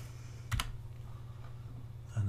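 A few keystrokes on a computer keyboard enter shortcuts, with a sharp clicking cluster early on and another at the end, close and quiet against a low background hum.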